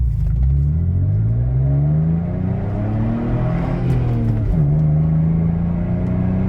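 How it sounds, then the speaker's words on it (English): A Toyota FJ Cruiser with a Flowmaster exhaust pulls hard under full acceleration, a loud, close, deep engine drone climbing through the revs, dipping briefly at a shift, then rising again, with no voices. "engine under full accelerative and decelerative load"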